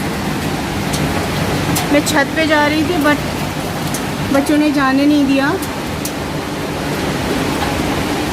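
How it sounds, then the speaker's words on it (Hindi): Hail falls steadily onto a street, rooftop and flower pots during a home storm, producing a dense, continuous hiss and patter. Someone speaks over the downpour. "और ओले पड़ रहे हैं"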